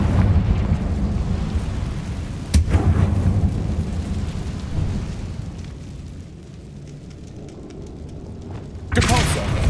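A Confringo blasting spell explodes in the game Hogwarts Legacy, a sharp burst followed by a long, heavy rumbling roar that slowly fades, with another loud blast near the end.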